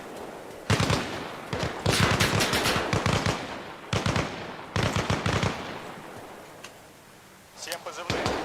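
Repeated automatic gunfire in bursts from an attack on a military base in Arma Reforger, loud and close with sharp cracks, pausing briefly between volleys, with voices talking over parts of it.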